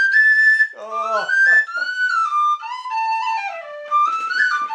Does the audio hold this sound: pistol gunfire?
no